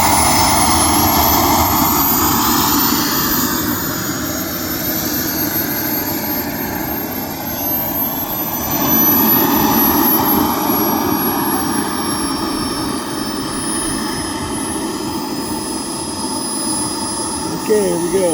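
Hangar 9 Hawk RC model jet roaring steadily at full power on its takeoff run, a loud continuous turbine whine with a high tone sweeping upward, with a voice talking over it throughout.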